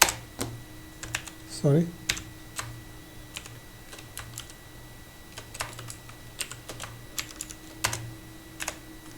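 Someone types a formula on a computer keyboard in a quiet room, with sparse, irregular key clicks scattered across the stretch and one brief spoken word early on.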